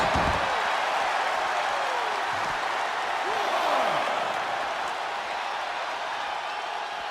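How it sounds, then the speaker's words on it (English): A loud, dense roar of a wrestling arena crowd cheering continuously, with an announcer talking over it. "The sound of this crowd is deafening, and he's asking for more."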